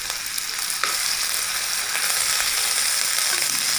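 Ginger-garlic paste and cumin powder sizzling hard in hot oil in a pan for a fish and jackfruit seed recipe: a loud, steady, close crackling hiss with faint stirring clinks and no talking.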